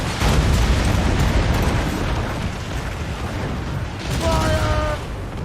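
Naval cannon fire in the video game Assassin's Creed Rogue, a dense, continuous barrage of booming blasts rumbling under a loud battle din, with a shouted voice and brief tonal cues near the end.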